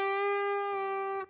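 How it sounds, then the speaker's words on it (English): A single sustained electric guitar note is bent up and then sags back down in pitch before cutting off abruptly. "they bend it, but then it starts to bend back down before they hit that"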